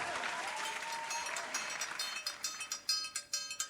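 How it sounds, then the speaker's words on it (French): Audience applause at a dance show semi-final, a steady wash of clapping from a crowd that thins into scattered claps near the end. "Sous vos applaudissements, Christophe."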